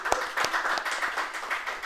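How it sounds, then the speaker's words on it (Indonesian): Audience applause greets a guest on an Indonesian podcast from West Java, a short spell of fairly faint clapping with a few sharper individual claps near the start. "Boleh tepuk tangan buat beliau."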